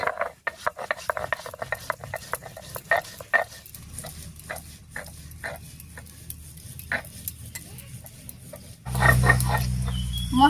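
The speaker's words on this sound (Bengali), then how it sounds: "তো একটুখানি আদা আর জিরা বেটে নিচ্ছি একসঙ্গে করে।" Ginger and cumin are ground together into a paste on a grinding stone in a village kitchen, a series of irregular scraping and rubbing strokes at close range, with a louder burst of noise at the end.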